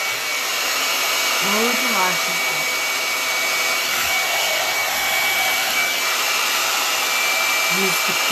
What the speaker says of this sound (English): I know how to use a blow dryer above and beyond with expertise